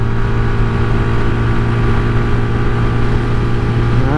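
A CSC SG250 motorcycle with stock carburetor and 16-tooth sprocket at wide open throttle on the road: loud, steady engine drone with a rising harmonic whine and wind rush throughout.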